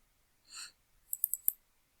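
Computer mouse clicks while loading slides into Blackboard: a soft breathy rush, then four quick, crisp clicks close by in near silence.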